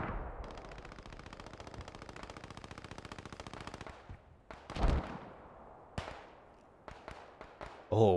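Sustained rapid machine gun fire from an MG position in the game Post Scriptum, a dense rattling burst for about four seconds, followed by scattered single gunshots and distant explosions.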